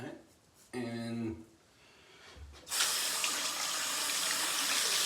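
Water runs steadily from a bathroom tap while a face is washed, with a brief hum and splash early on, then a loud continuous close stream filling the rest.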